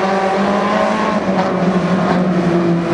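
Pony stock race cars at Barona Speedway roar together at the start of a heat, a dense, steady engine drone with layered revving tones, loud and continuous throughout with no talk.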